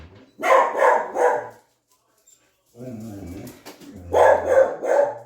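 Dogs in a home bark in two loud bursts of several quick barks each, separated by a pause with softer whining and yips in between.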